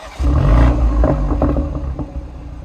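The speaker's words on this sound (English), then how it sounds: "this is what it sounds like when I do my own version of BMW's emotion start." A BMW 3 Series engine starts with a custom start sequence: a sudden loud roar of ignition, then several quick throttle blips settling into a rougher idle, close and with no voices.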